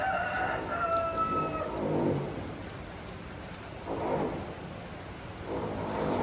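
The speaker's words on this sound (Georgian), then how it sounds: "ისეთ ხმად წვიმდა ხალხო ისეთ წვიმდა" Heavy rain pours steadily while thunder rolls in broad swells, one rumble early, another midway and a third near the end, with a rooster crowing briefly at the start and no talk over the storm.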